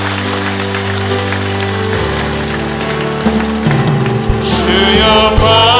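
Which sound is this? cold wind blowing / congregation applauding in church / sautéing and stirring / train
congregation applauding in church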